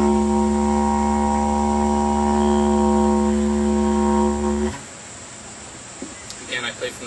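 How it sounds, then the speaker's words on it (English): A didgeridoo drone played with loose lips holds a deep, buzzing, steady tone for several seconds, close and loud, then cuts off, leaving faint room noise and a few small knocks. "when you play it on the didgeridoo, it should sound something like this."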